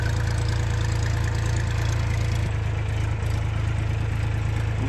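A tractor engine idles steadily beside a wheat field, a continuous low throbbing drone with a slight change in tone midway, close and even, no voices.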